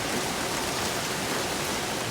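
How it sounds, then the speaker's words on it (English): Rain falling on a garden in summer, a steady, even hiss of dense drops on leaves and ground with no breaks or voices. "And now it's raining,"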